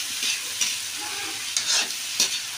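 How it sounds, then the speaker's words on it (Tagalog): Shrimp sauté in a pan while being stirred, giving a steady close sizzle broken by a few scraping stirs of the utensil. "Halo-halo, konti, halo-halo."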